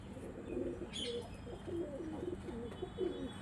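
Several Chennai breed pigeons coo softly and repeatedly at close range in a home loft, their low rolling calls overlapping with a faint chirp and brief wing rustle.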